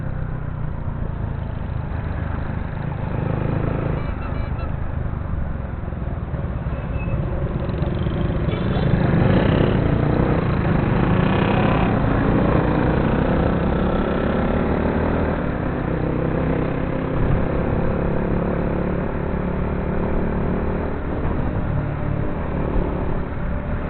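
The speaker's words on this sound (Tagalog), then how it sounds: "ang ginagamit kong motor RCS 125 lang po" A 2017 Honda RCS 125 motorcycle being ridden on a delivery run: continuous engine drone with wind and road noise, rising somewhat in the middle and staying steady throughout.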